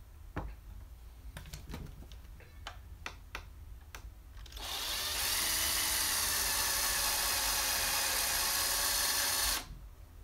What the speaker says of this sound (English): the drill seems to be working